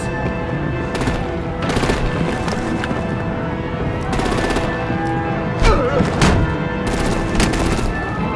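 Rapid gunfire and heavy artillery blasts rattle in bursts over a constant droning score during a combat scene in the video game Batman: The Enemy Within, loud and dense throughout.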